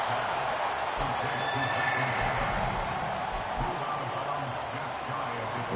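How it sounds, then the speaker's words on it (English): Football stadium crowd roars in a sustained, distant-sounding wash of cheering during an NFL Cowboys game, with a steady low rumble and faint high whistles above it. "This crowd doing all they can."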